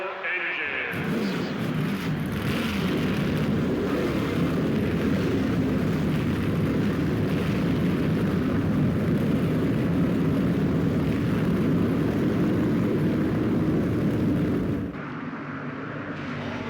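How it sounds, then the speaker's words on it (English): NASCAR race car engines in NASCAR Thunder 04 at Martinsville, a dense, loud, sustained engine roar that kicks in abruptly after a brief lead-in, holds steady for about fourteen seconds, then drops sharply to a lower rumble. "start your engines"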